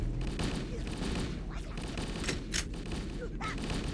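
Continuous gunfire from the video game Halo: Combat Evolved, a dense, loud barrage of rapid shots with brief bursts, mixed under shouted player talk throughout.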